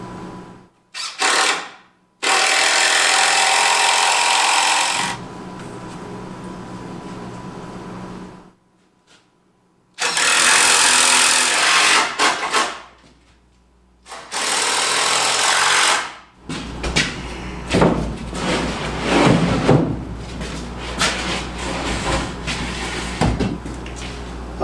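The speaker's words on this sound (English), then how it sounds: "driving these 3-inch screws seems to be wearing out my drill" A power drill drives 3-inch screws into wood for basement shelving, with loud sustained whirring bursts of several seconds separated by short pauses, then rattling, knocking bursts as the screws seat.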